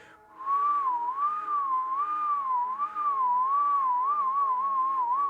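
A person whistles a wavering, wobbly melody alone, loud and close, sustained for several seconds with a short break near the middle.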